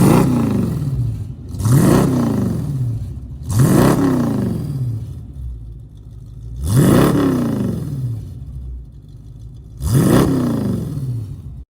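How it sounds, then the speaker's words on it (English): A 1969 Ford F100 truck engine, freshly fuelled after eight months sitting, revved repeatedly: five rising blips over a rough, clattery idle, loud and near. "we finally put some gas in this truck and fired it up for the first time in 8 months"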